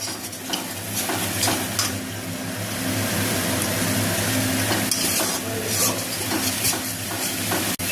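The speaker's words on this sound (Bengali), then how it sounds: "এখন কষাবো, মশলাগুলিকে কষানো হয়ে যাক" Spices sautéing in oil in a pan, a dense continuous sizzle with frequent scraping strokes of a stirring spoon, loud and close, no voices.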